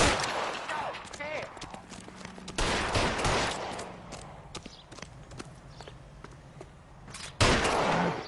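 Gunfire in the video game L.A. Noire cracks out in several sharp, loud bursts over busy background clatter and hoofbeat-like knocking, with voices talking in between.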